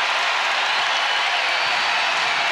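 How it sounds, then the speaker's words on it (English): A basketball arena crowd at Hilton Coliseum during an NCAA women's tournament first-round game, a steady broad roar of cheering and applause that holds loud and unbroken throughout. "Crowd getting loud inside"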